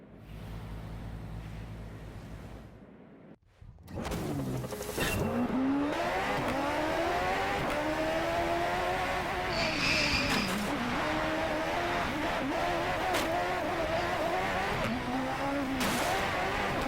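Race car engine in the DriveClub video game, a loud sustained roar that sweeps up and down through gear changes after a brief drop near the start, continuous and close throughout.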